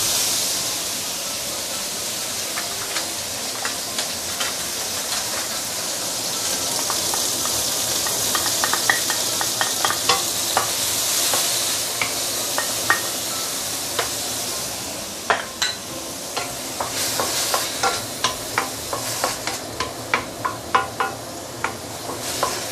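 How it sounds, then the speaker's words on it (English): Shallot, cilantro and a seeded dried chili sautéing in a pan, a steady close sizzle and hiss throughout, with a series of rapid clicks and scrapes from stirring near the end. "saute this for maybe 2-3 minutes before we continue"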